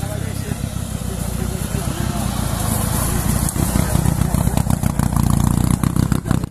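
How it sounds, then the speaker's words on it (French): A classic Panhard car pulls away at a car, motorcycle and truck show held at a château, its small engine chugging loudly and picking up revs close to the microphone. "Là on va voir la Panhard s'en aller."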